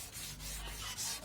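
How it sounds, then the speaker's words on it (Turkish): Sandpaper scrubbed by hand across an oxidized, yellowed car headlight lens during wet sanding, a soft repeated rasping with a few strokes rising and falling, close but quiet. "İlk zımpara oksitlenmiş yüzey sarı su akacak şekilde yanmış yüzey temizlenene kadar zımparalamamız gerekiyor."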